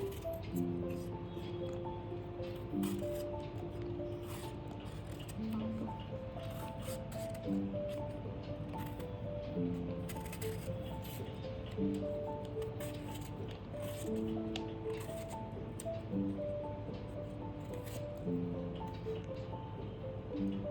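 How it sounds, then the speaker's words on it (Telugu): Raw sour mangoes are peeled with a knife in a kitchen, with steady scraping and soft shaving strokes under constant background noise and faint music tones. "నీట్గా వాష్ చేసుకున్న మామిడికాయల్ని తొక్క నీట్గా చెక్కేసుకుందాము"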